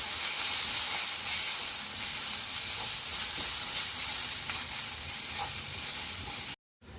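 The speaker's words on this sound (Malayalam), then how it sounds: "ഇഞ്ചി വെളുത്തുള്ളി പേസ്റ്റ് ഇത് ഒരു ടീസ്പൂൺ ഒന്നേകാൽ ടീസ്പൂൺ ഇട്ടിട്ടുണ്ട് അതുകൂടെ നന്നായിട്ടൊന്ന് വാട്ടിയെടുക്കണം" Ginger garlic paste sautéing with onions in a pan for rajma curry, a steady close hiss and sizzle that runs unbroken, then cuts out briefly near the end.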